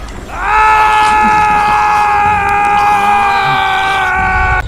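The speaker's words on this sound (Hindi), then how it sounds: "मनीष की चीख महल की दीवारों में ही सिमट कर रह गई।" A man's scream from a Hindi horror animated story rises into a long, sustained, piercing wail that holds for about four seconds, loud and alone before cutting off.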